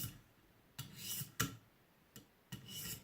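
Recurve knife blade drawn across a ViperSharp sharpening stone, a few separate scraping strokes, each a soft rasp with a sharp onset, spaced about a second apart and heard close up with no talking.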